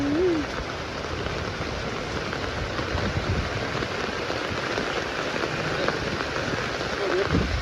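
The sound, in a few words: rain falling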